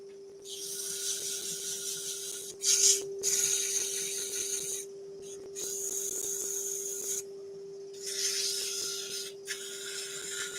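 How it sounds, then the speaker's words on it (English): Abrasive rasping of sandpaper against wood spinning on a lathe, in several sustained passes with brief pauses between them, over a steady motor hum. "let's do a little bit of sanding."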